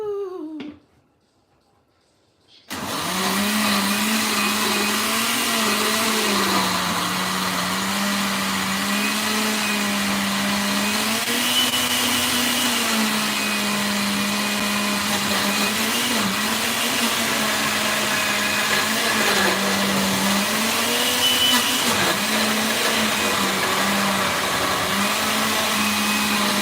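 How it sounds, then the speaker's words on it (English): A kitchen blender whirs steadily for about twenty seconds while palm butter soup is being made, starting abruptly after a brief silence. The loud, continuous drone holds a steady hum and plays alone. "But let me blend this real quick, y'all."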